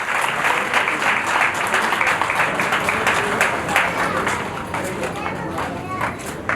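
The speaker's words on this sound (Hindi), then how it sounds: "हम सभी तालियों के करतल ध्वनि से परम पूज्य संत गुरुदेव जी का स्वागत करेंगे" Sustained applause from an audience welcoming a revered guru at a religious gathering, a dense, even wash of clapping that continues throughout without pause.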